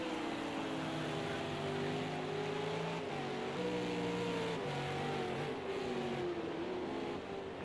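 V8 Supercars race cars circuit a track in a continuous engine drone, the pitch climbing and dropping through gear changes and over a crest, sounding moderately distant and steady throughout.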